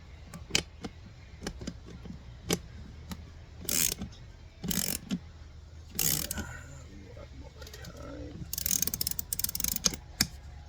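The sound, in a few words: locking nut being put on and tightened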